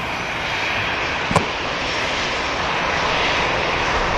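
Aircraft engine at Manchester Airport as a plane taxis, a loud steady turbine roar with a high whine, close and continuous, broken by one brief sharp click, no voices.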